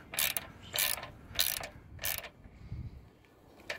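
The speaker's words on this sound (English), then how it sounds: "I'll come down here and I'll tighten this one a little bit." Wrench tightening bolts on a Mercury Verado outboard poppet valve, short bursts of ratcheting clicks in four quick spurts, close and quiet, with a soft low clunk afterward.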